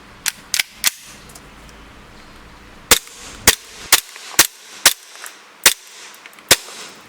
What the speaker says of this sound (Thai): นี่นะครับเดี๋ยวจะยิงเข้าที่กล่องนะครับ